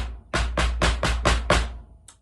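Drum set playing a sixteenth-note rhythm variation: six loud, evenly spaced hits with crash-like wash, followed by a faint final tap, close and alone with no talking.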